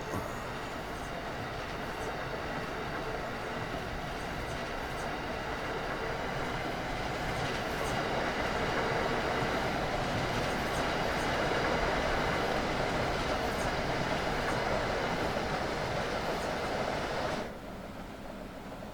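A train on the Boston–Providence route in a railway video game rolls on in a steady, dense rumble, with rhythmic clickety-clack from the wheels and a faint squeal, dropping away near the end.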